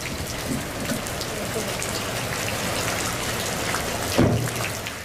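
Intense rain falling in Otusco, a steady dense hiss of drops on surfaces throughout, with a brief louder splash or knock near the end.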